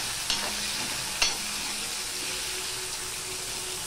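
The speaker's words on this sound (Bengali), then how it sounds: "সেই পেঁয়াজটা আমি দিয়ে দিলাম। পেঁয়াজটা আমি লাল লাল করে ভেজে নেব।" Sliced onion fries in a pan for a potol and potato dish, giving a steady, close sizzle with two sharp clinks of a spatula or spoon stirring early on.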